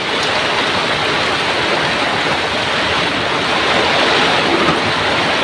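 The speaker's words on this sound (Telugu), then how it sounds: "వాటర్ ఇటు లోనికి వచ్చాయి అక్క." Water flowing into a field, a steady broadband rush like a stream or runoff that stays loud and even throughout, with no voices.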